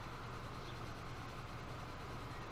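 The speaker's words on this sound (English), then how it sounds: "I do not know where this train is trying to go" A freight train runs along the track in Transport Fever 2, a low, faint, steady rumble with no distinct clicks or other events.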